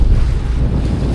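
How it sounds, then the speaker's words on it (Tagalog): Strong wind and big waves at sea during a typhoon, heard as a steady, loud, close roar of gusting wind and surf buffeting the microphone, with no talking. "Malaki yung alon, malakas yung hangin."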